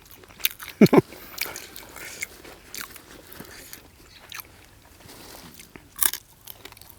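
Crunchy bites into crispy roast suckling pork tail, a couple of sharp crackling crunches up front and another later, with quieter chewing and faint background noise between.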